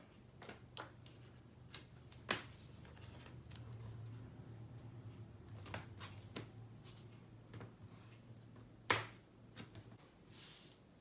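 Paper pages of a Christmas folio are flipped over by hand, giving a series of soft, close flaps and rustles with irregular spacing, quiet overall, over a low steady hum.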